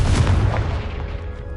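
A Confringo fire spell in Hogwarts Legacy detonates as a heavy, close boom with a dense low rumble that holds and slowly thins over a second and a half.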